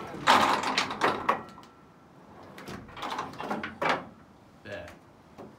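Church bell bearings clunking as the bell is rung in a belfry tower, several heavy wooden knocks and mechanical thuds in irregular bursts, close by, with people talking in between.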